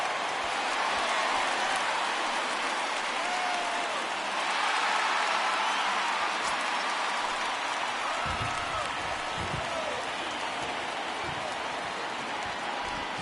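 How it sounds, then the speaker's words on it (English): Heavy rain falls steadily on a baseball field as a broad, constant hiss. Faint crowd murmur and a few thumps sit underneath it. "Well, that rain is really coming down right now."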